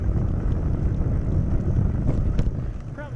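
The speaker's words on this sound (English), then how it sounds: "I don't know if you can hear me in the wind." Wind blowing outdoors at a campground buffets the microphone as a steady, loud, low rumble that runs the whole way through, with no clear speech over it.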